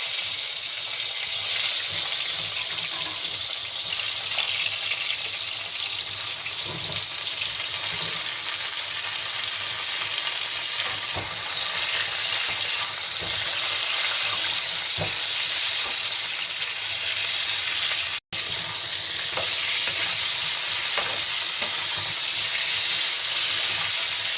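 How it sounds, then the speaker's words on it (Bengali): Pieces of pointed gourd sizzle in hot oil in a home kitchen, giving a steady, close frying hiss with soft crackles and occasional stirring scrapes throughout. "পটলটা ভেজে নিচ্ছি।"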